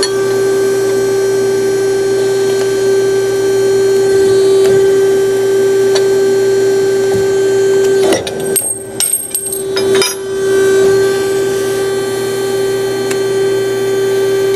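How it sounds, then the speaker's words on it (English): A JMT IW110 120-ton hydraulic ironworker runs its copper notcher, giving a steady loud mains-like hum with a brief burst of clanking and rattling partway through as the cut is made, then the even drone carries on. "Now I'm gonna demonstrate our copper notcher here in the back."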